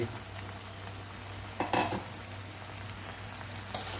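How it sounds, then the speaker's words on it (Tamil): Ingredients for manathakkali keerai rice sautéing in a pan, a steady low sizzle with a couple of brief stirring clinks of a utensil against the pan, no talking. "இவனை அப்படியே போட்டு வதக்கி இவன் நல்லா கொஞ்சம் வதங்கினா தான் பச்சை வாடையெல்லாம் போவான்"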